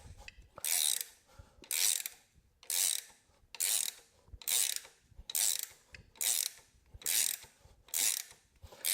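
A wrench turns a puller to draw a bellhousing dowel pin from a big block Ford, a steady series of about nine loud ratcheting clicks in even rhythm, close up and without talk.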